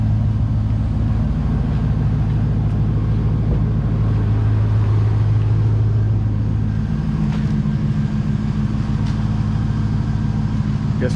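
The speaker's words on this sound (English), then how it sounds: "Guess we're taking the truck out today." A truck engine rumbles steadily from inside the cab while driving, a continuous low drone with no break or talk.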